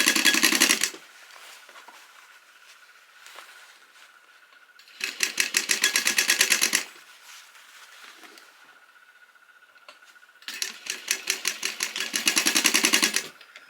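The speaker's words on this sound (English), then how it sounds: "now there's my top stitching done." A sewing machine top-stitches a beginner's grocery tote in three quick, loud bursts of rapid stitching. Quiet pauses separate the bursts, with a faint steady hum underneath.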